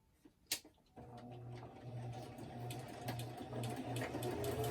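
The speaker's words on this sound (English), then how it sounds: "I'm going to quickly run to the sewing machine and do this off camera very quickly" A sewing machine stitches a handmade writing journal in a quick, steady mechanical whirr that starts after a brief click and runs continuously and close by, with no talking.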